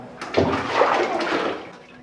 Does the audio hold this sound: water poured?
yes